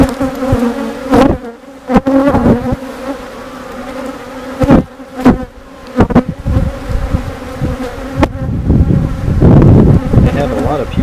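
Honeybees from a colony in an opened hive, with a marked queen, drone in a dense, constant buzz close by, broken by sudden brief bursts of wind-like rumble and handling noise.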